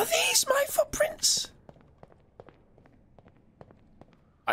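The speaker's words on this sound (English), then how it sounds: "I heard footsteps." Soft footsteps sound in the Backrooms POOLS video game, a string of faint, irregular taps that follow a short burst of close speech.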